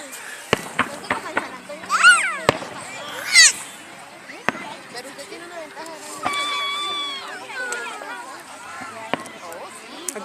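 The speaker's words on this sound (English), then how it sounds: "You're not gonna look at the fireworks, honey?" Several sharp pops and cracks of small fireworks go off at irregular intervals, with people talking and a voice nearby in an outdoor setting.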